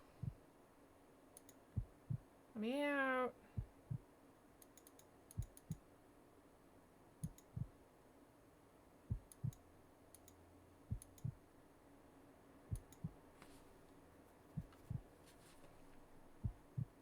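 A low, muffled heartbeat thumps in slow, regular paired beats inside the game To The Moon, interspersed with soft mouse clicks and one brief vocal outburst, over a faint hum.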